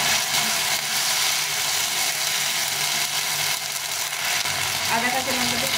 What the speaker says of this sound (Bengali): আদা কাঁচা লঙ্কাটা একটু ভাজা ভাজা হয়ে গেছে